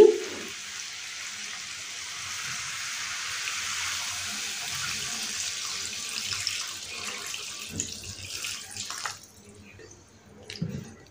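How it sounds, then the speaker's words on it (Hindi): Water is poured into a pan of drumstick curry on the stove. A steady, hissy stream runs for several seconds, then stops, followed by a few clinks and small sounds of the pan. "अब हम इसमें डालेंगे पानी"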